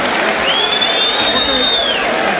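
A loud, sustained crowd cheers and applauds at the end of round seven of the Julio Flores vs Jake Rodriguez boxing match. A shrill whistle rises and holds over the roar through the middle.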